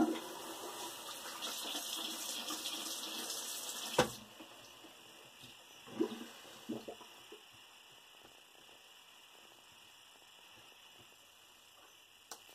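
Tap water running in a bathroom sink while rinsing off after a beard shave, a steady faint stream that stops partway through, followed by a few soft splashes and knocks over low hum.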